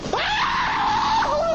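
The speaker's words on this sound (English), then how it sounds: "Rushing footsteps come from within and send him screaming off the job site." A man screams in a scary video as he flees a job site, one long, loud, rising and wavering shriek alone for over a second.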